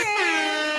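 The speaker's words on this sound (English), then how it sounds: "Air horns. Air horns and applause." An air horn sound effect gives one short, loud, brassy blast that holds under a second and stands alone.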